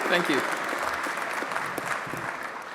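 Audience applause at the Africa Peace Symposium, a short burst of broad clapping that continues steadily, with a voice briefly heard at the start.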